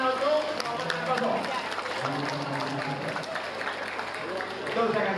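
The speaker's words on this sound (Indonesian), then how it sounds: "Tepuk tangan untuk Muhammad Santoso." An audience at an Indonesian vocational talk show claps for Muhammad Santoso, a short, busy round of applause from a crowd with voices talking and calling out over it.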